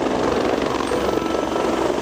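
A helicopter's steady, close rotor chop and engine roar fill the whole stretch at constant loudness, with no voices.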